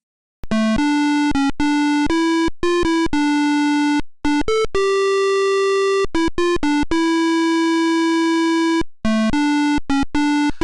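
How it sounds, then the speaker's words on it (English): Police Quest theme music from an early PC speaker: harsh square-wave beeper tune in blocky single notes with abrupt gaps, shrill and buzzy, playing a simple melody alone. "Here, for instance, is a piece of the Police Quest theme music."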